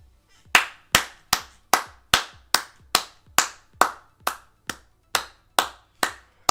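Fourteen sharp, evenly spaced hand claps ring out loud and close, each with a short decaying tail, in a steady rhythm with no talking.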